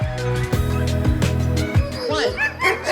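Sled dogs at a kennel in Denali National Park bark and yip in quick, excited bursts close by, with a few whimpers and high howling calls rising near the end.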